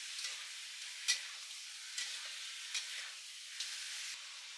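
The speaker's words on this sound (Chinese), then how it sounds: "持续的翻动鸡肉，将鸡肉的表面都炒熟。" Chicken skin sizzles in a frying pan, a steady close crackle and hiss marked by several brief scraping bursts as the pieces are stirred and turned.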